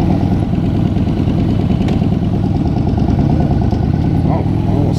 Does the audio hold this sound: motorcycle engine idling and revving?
yes